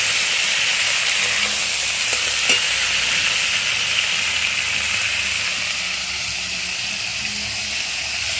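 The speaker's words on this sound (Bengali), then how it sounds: "ফুলকপিটা আমার লাল লাল করে ভাজা রেডি একদম" Cauliflower pieces fry in a pan until reddish-brown and soft, giving a steady, close sizzle and hiss that runs without a break, with a small clink partway through.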